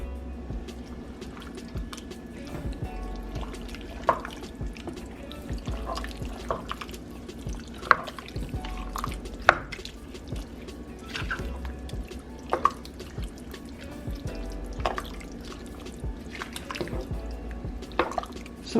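Liquid drips steadily from drained black beans, a run of soft, close drops and small splashes spaced irregularly over a low background hum.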